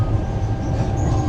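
A second-class train runs through the Italian countryside with a steady, loud rumble and faint rhythmic clatter, heard from inside the carriage. No one speaks.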